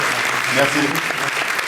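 A live audience applauds at a French eloquence contest final in Paris, steady clapping filling the space while a voice speaks briefly over it.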